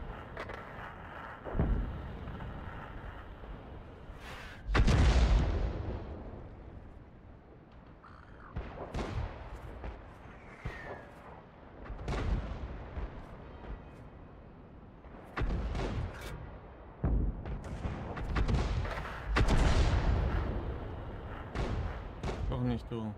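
Tank cannon shots in the World of Tanks video game, several sharp booming blasts spaced a few seconds apart with rumbling decays, mixed with a player's talk between them.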